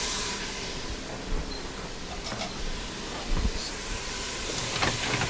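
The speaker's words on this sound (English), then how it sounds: "sauteing these onions" Onions sautéing in a stainless steel skillet, a steady close hiss of frying that runs the whole time, with a few faint clinks over it.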